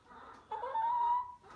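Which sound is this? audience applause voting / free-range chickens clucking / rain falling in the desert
free-range chickens clucking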